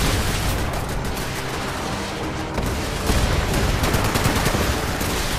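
Sustained machine gun fire in the post-apocalyptic game Fallout 76, a dense continuous stream of rapid shots with booming impacts, loud throughout with no pause.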